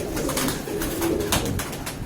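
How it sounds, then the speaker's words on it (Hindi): Pigeons coo continuously nearby, several low, throaty calls overlapping with soft fluttering and rustling in the background. "ये जो कबूतर उड़ के इधर उधर बैठ जाते हैं।"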